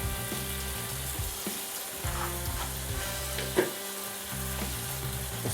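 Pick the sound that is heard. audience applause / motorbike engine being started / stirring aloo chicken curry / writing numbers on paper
stirring aloo chicken curry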